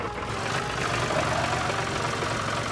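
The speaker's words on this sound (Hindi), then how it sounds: "अभी ट्रैक्टर लेकर जाएंगे" An HMT 5911 tractor engine idles in Indian Tractor Simulator, a steady, loud, close mechanical drone with a slightly knocking low rumble that holds evenly for a few seconds with no talk over it.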